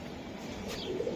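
Racing pigeon cooing softly in short low murmurs, close by under a steady background hiss.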